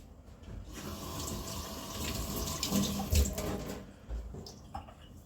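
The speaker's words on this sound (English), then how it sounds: "Going to squeeze the liquid out." Liquid squeezed out of a whole twisted yarn skein and streaming into a jar, a steady splashing trickle that swells and fades over several seconds, fairly close, with no talking.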